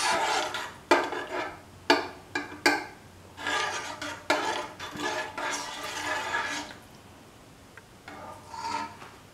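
A spoon scrapes and knocks around a pan while okra is stirred into yogurt, giving bursts of irregular scraping and clinking with short pauses between them, fairly close and quiet overall.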